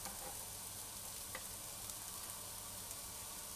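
Beef chilli stir-fried fast over high heat, a spoon moving it around the pan: a steady, fairly faint sizzle runs throughout with a few light scrapes, no voices.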